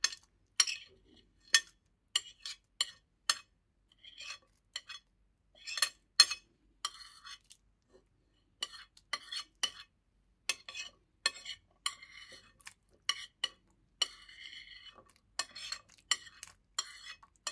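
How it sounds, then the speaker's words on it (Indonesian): A spatula mixes spices and ingredients for beef biryani in a pan, giving sharp intermittent scrapes and clinks with short pauses between strokes, close and dry. "Nah, semua bahan yang tadi kita campurkan jadi satu."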